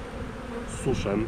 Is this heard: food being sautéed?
no